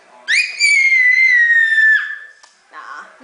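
A child imitates a cat with a high, drawn-out squealing meow that falls in pitch toward its end, loud and near, followed by a softer breathy sound.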